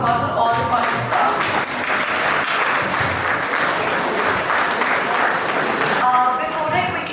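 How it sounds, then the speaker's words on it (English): A large audience at a school Model United Nations conference applauds the conference staff, sustained dense clapping at full volume for about six seconds before thinning toward the end, with faint voices mixed in. "can we please have a round of applause for all the conference staff"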